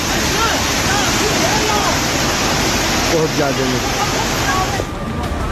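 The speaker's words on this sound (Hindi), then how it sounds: "समंदर की शक्ल में बहता पानी न केवल डरावना है" Monsoon floodwater in Himachal rushes loudly in a steady, dense roar of churning water, while a voice speaks briefly over it.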